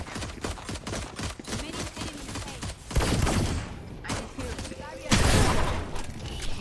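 Gunfire in a Valorant match, loud bursts of shots with a sharp heavy blast near the three-second mark and another around five seconds, over game noise and excited player chatter.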